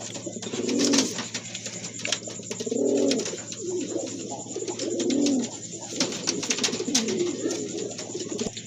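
A pair of restless pigeons cooing close by, several rounded, throaty coos repeating in a loose rhythm over a steady background hum.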